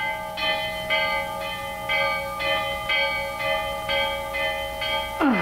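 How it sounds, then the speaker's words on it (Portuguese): A bell rings in a steady series of clear, resonant strokes, roughly one per second, with a sustained metallic hum lingering between strikes. "Ei, José Dias, está ouvindo o sino da casa do teu pai?"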